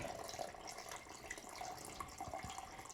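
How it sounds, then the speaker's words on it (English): Tap water runs from a faucet into a Ninja Creami pint container, a faint steady rushing stream with small splashes and no voices. "and then I'm just going to fill in water."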